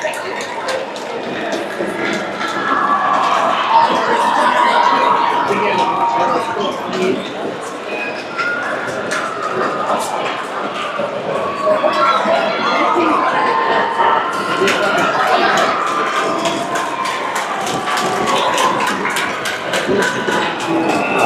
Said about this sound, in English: you're going to hear the crowd wrap around me now